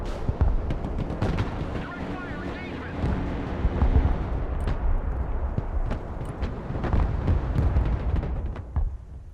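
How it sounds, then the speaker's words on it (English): Rocket artillery firing in a real-time strategy war game, a dense run of booming blasts and rumbling launches repeating across the whole stretch, loud and close amid wind-like roar. "Rocket artillery at your order, sir."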